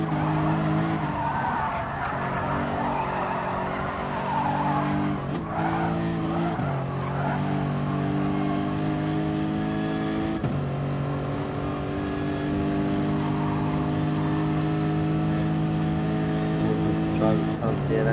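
A race car in a racing video game slows and pulls into the pits, its engine a steady whining drone with shifting pitch and tire squeal, heard under continuous commentary.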